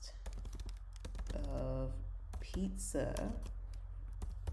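Close, rapid clicking of computer keyboard keys as a prompt is typed into ChatGPT, with someone talking over the typing.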